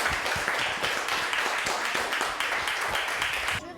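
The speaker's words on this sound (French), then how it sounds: "On peut s'applaudir" An audience applauds with dense, continuous clapping at moderate distance that cuts off abruptly at the end.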